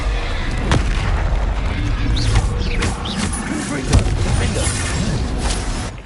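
An Incendiary fire spell cast in the Hogwarts Legacy video game, a loud, dense roar of rushing flame with scattered thuds and one sharper boom near the end.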